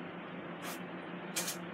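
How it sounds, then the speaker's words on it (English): Two short hissing bursts of olive oil spray onto breaded catfish fillets in an air fryer basket, close and fairly loud over a steady background hum. "And spray the fish with olive oil."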